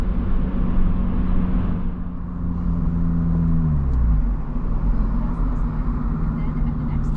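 A Subaru BRZ fitted with an AWE catback exhaust drives along with a low, steady rumble from inside the cabin, the pitch sliding down as it slows midway, then holding level.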